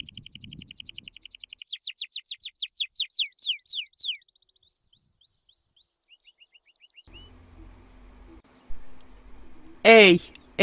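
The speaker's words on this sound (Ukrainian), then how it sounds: "Ей, ей, співає соловей." Songbird calls, a nightingale's singing: fast repeated chirps, trills and whistled phrases, bright and close, for several seconds. Quieter room noise and a brief murmur of voices follow near the end.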